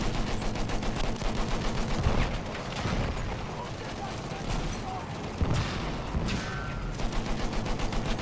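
Tank gunfire in a video game: dense bursts of shots over a constant rumbling game mix, with voices talking throughout and a few louder impacts standing out.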